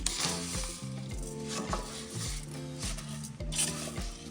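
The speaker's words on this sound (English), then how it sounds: "we'll be toasting this until it browns a little bit. So just stirring." Couscous toasts in a pan with bay leaves while being stirred: a soft dry scraping and light sizzle run continuously under louder rhythmic background music.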